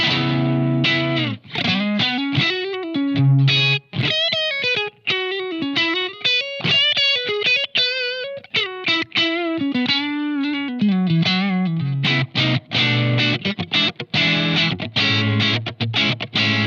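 An electric guitar plays through a 100-watt EL34 Marshall-voiced amp with the gain turned up, producing a distorted, sustained tone of melodic bends and runs, alone and close, ending in choppier chords.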